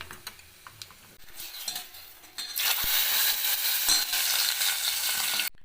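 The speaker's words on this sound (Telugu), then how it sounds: "ఇప్పుడు మనం స్టవ్ ఆఫ్ చేసుకుని రసంలో కలిపేద్దాం" Quiet clinks and stirring, then hot tempering for rasam hisses and sizzles loudly for a few seconds before stopping abruptly as it is stirred into the rasam.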